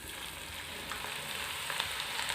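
Drumstick-leaf pakoda batter sizzles in hot oil, a dense, continuous crackling fry heard up close with small pops scattered throughout.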